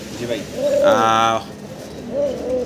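A pair of black Kormona pigeons cooing close by in a few soft, repeated phrases, with a brief louder harmonic burst in the middle.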